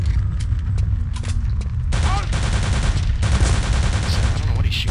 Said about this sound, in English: he's shooting somebody up there